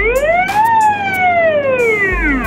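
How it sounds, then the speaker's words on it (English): A police car siren rises quickly in pitch, then glides gradually back down, loud and near, with no voices. "It's a Russian police car."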